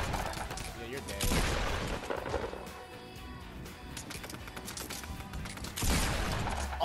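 Rapid bursts of gunfire from a shooter video game crackle loudly in clustered volleys, with a heavier flurry near the start and another near the end, mixed with game noise and voices.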